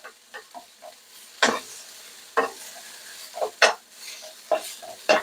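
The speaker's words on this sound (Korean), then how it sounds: "지금 자, 파프리카를 볶고 있습니다." Paprika stir-frying for japchae: a spatula scrapes and clacks against the pan in irregular bursts over a faint, low sizzle.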